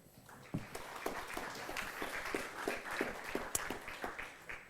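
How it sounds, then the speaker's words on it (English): An audience at a lunchtime science lecture applauds the chemistry researcher Steven Wilson, a steady patter of clapping from a room of people, moderately distant and soft. "please give a big applause to Steven"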